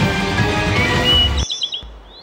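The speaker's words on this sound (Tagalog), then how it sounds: "Sari-saring ibon na tila hineheleka sa kanilang mga huni." Several birds chirp and tweet in the La Mesa Ecopark forest, a dense layer of calls that cuts off abruptly, leaving a few clear, close chirps ringing alone.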